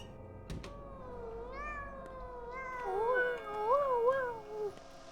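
A cat in the Pathologic 2 video game meows in a series of drawn-out, rising and falling calls, with a person answering in meowing imitation. The meows are moderately loud, close and alone, and a soft knock sounds early on.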